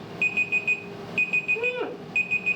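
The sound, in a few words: kitchen timer alarm going off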